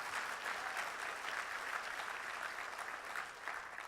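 Steady applause from a seated audience at a 2017 award dinner, an even wash of many hands clapping at moderate volume, with no talking over it.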